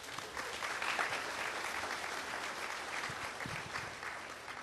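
Fairly quiet, steady applause from an audience at a lecture after a short speech, a continuous patter of clapping hands heard from a little distance.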